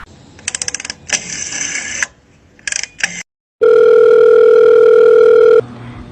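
Telephone dialing in a radio play: rapid clicks and bursts of electronic tones, short pauses, then a loud steady dial tone holding for about two seconds before cutting off.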